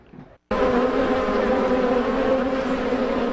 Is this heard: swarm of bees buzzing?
yes